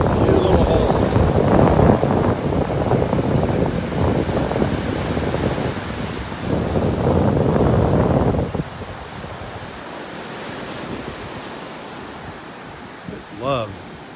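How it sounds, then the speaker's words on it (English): Surf breaks on a North Naples, Florida beach on a stormy day, a loud continuous roar with wind rumbling over the microphone that eases after a few seconds into a quieter wash. "Sound of the waves here breaking on the shore."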